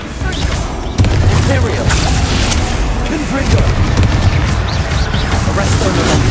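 Booming Confringo fire-spell blasts from the Hogwarts Legacy game, loud and rumbling, layered over continuous dense combat noise with heavy low-end thuds and crashes.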